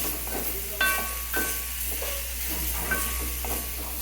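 Grated coconut is stirred into jackfruit thoran in a hot pan: a steady sizzle runs underneath, and a spatula scrapes and clinks against the metal at regular intervals, close and without voices.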